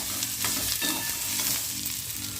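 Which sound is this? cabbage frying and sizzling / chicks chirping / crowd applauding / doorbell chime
cabbage frying and sizzling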